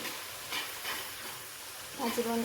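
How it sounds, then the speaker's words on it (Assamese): Spices sizzle and hiss in a hot pan while being stirred for a pigeon curry, soft and steady, with a brief voice near the end. "মছলা ভাজি আছোঁ মই"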